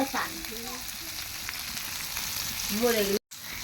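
Food sizzling in a pan after oil is added, a continuous close frying hiss with faint tonal whistles, cutting off abruptly near the end.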